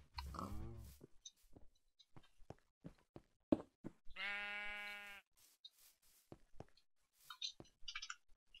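A single drawn-out sheep bleat rings out clearly in a Minecraft sheep farm, set among scattered short clicks and taps from gameplay in an otherwise quiet scene.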